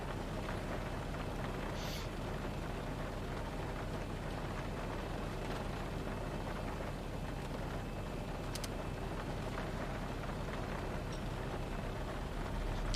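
Steady rain patters on the cockpit of a Zibo mod Boeing 737 in a flight simulator game, a constant even wash of drops with faint distant rumbles.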